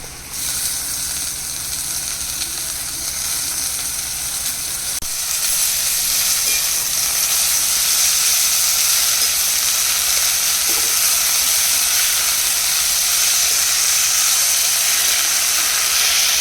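Wild leafy vegetables go into hot oil with onion and turmeric, raising a steady, loud sizzling hiss that swells after about five seconds and carries on unbroken, close up, with no talking.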